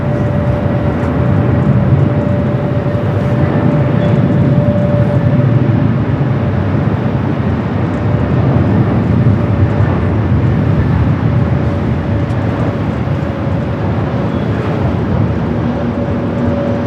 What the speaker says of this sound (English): Dreamliner heading back to Tel Aviv, rolling down to 25 right.